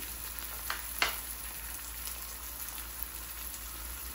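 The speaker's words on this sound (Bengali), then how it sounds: "টমেটোটাকে একটু সফট করে নেব, এভাবে নেড়ে চেড়ে সফট করে নেব" Tomato fries in a pan, giving a soft steady sizzle with a couple of brief stirring clatters near the start, close and fairly quiet.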